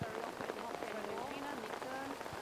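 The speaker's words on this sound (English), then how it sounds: "You perhaps are hearing the rain rattling on the top of my brolly" Rain rattles steadily on top of an umbrella at an outdoor hockey match, a close, dense patter running throughout while a commentator's voice carries on underneath.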